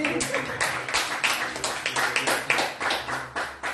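A church congregation claps in steady rhythmic unison, the sharp claps evenly spaced and close, with singing or voices mixed underneath.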